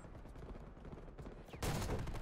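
Gunfire in a shooter video game, including a ZRG 20mm sniper rifle, with soft rapid shots up front and then a loud, dense burst of near fusillade filling the last stretch.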